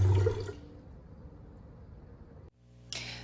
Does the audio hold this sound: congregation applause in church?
no